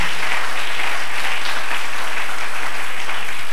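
A church congregation at a sermon claps continuously and loudly, a dense even patter of applause with no breaks.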